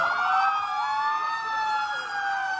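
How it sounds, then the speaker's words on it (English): A restored 1954 Ford police car runs its siren in a Fourth of July parade, a loud, sustained wail sliding slowly in pitch, close and continuous with crowd noise underneath. "Police Chief Jerry Gonzalez, riding in Willits Shifters 1954 Ford Willits Police Car."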